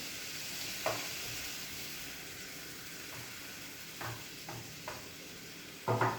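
Liquid cream stirred into reduced white wine in a pan, a steady low simmering hiss broken by a few soft clinks and scrapes of the utensil, fairly quiet and with no one talking.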